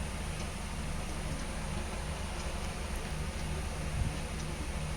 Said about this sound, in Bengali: ক্যাপসিকাম আর পেঁয়াজটা আমি ভালো করে ভেজে নেব